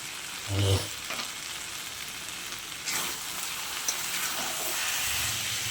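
Vegetarian banana flower curry with garam masala sizzling in a pan while being stirred, a steady close hiss with a few scraping strokes and soft clatters.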